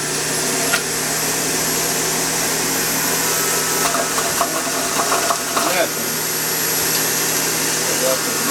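A juicer's blade spins at high speed while juicing celery and carrots, a steady loud motor whir with some rattling and knocking as the vegetables are fed in.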